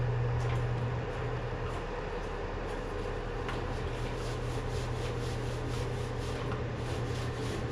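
A brush spreads varnish over a cedar strip canoe hull in soft, steady back-and-forth rubbing strokes, faint and continuous over a low hum, with no talking.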